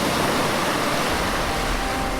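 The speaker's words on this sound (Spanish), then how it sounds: "Las olas chocaron suavemente contra nosotros." Waves break gently in a horror audio drama, heard as a dense, steady wash of rushing water, loud and close with no pauses.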